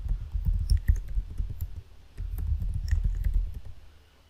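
Computer mouse clicks in MS SQL Server while setting up a login, a close, quiet patter of small clicks spread across the clip with brief pauses.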